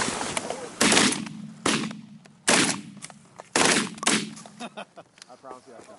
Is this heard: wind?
no